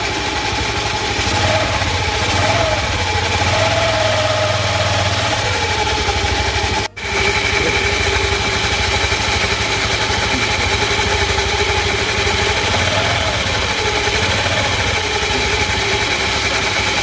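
A TVS Scooty Pep scooter engine idles steadily up close after a clutch shoe replacement, a continuous buzzing putter with slight rises in pitch, briefly cutting out for an instant midway.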